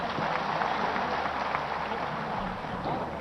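At a public event in Nasrullaganj, an audience claps loudly and steadily to welcome Kartikeya, a dense, continuous wall of applause throughout.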